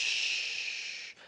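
A voice imitates a cymbal swell with a breathy, hissing "shh" that holds steady for about a second, then cuts off and briefly trails.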